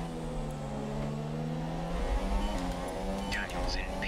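Formula One car engine in a racing video game at the Malaysia Grand Prix, a sustained whining drone that rises in pitch, with faint chirps and squeals layered on top.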